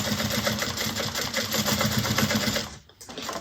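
A sewing machine stitching a bag runs steadily and closely in a fast rhythmic whir, then briefly stops near the end before starting again; no talking.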